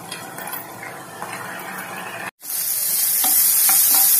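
Vegetables fry in a pan with a steady moderate sizzle and occasional stirring scrapes; after a brief drop to silence, a louder, brighter hiss of frying takes over.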